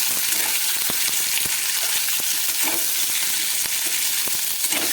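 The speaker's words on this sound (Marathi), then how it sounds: "थोडंसं सोनेरी रंग येईपर्यंत तळून घ्यायचं आहे" Paneer cubes frying in a pan until lightly golden give off a steady, close sizzle, with sharp crackles and pops scattered through it and no voices.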